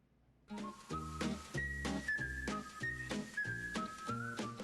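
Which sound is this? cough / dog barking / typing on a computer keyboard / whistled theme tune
whistled theme tune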